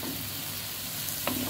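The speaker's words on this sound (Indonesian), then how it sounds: "Aduk-aduk." Tempe cut into small pieces and already fried is stirred with spices, bay leaf and galangal in a pan, giving a steady soft sizzle with a brief scrape of the spatula near the end.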